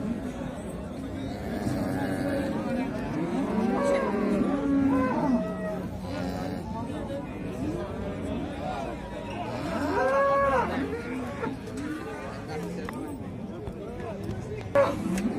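Cattle and calves moo repeatedly at a busy open-air livestock bazaar in Khorezm, with drawn-out calls rising over a constant crowd chatter and people talking nearby.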